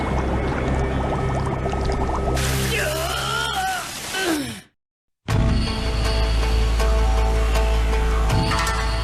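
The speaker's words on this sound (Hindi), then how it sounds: "पानी अंदर आ रहा है।" Anime scene of water rushing into a ship and flooding it: a dense pouring roar with creaking, rising tones, a brief silent gap, then a continuous heavy gush of water.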